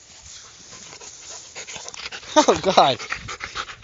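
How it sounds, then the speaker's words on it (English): A dog pants in quick, rhythmic breaths close by, with soft whimpering tones rising in the middle while a person talks over it briefly. "How you doing, Chinese dog?"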